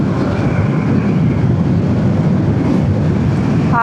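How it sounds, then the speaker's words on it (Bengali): A train running through a cutting gives off a loud, continuous low rumble, close and steady across the whole stretch, with no voices. "গর্ত দিয়ে ট্রেন চলতেছে।"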